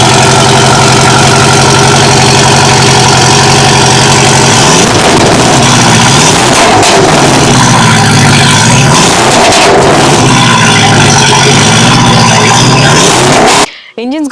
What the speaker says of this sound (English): Porsche 718 Cayman అసలు ఎలా sound చేస్తుంది